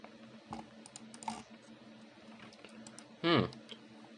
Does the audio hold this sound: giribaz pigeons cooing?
no